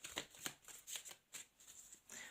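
A tarot card deck is shuffled in a quick rhythmic series of soft riffling bursts, close and quiet, with no one speaking.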